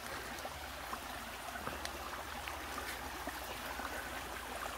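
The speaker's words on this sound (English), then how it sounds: "This is now where we enter the beautiful creek area." A creek in a rainforest, with steady broadband water flow and soft trickling throughout and no voices.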